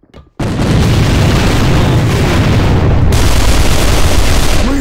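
A grenade goes off in a multiplayer shooter video game: one loud, close blast that cuts in abruptly, then a sustained roaring rumble and debris noise that fills the rest of the moment.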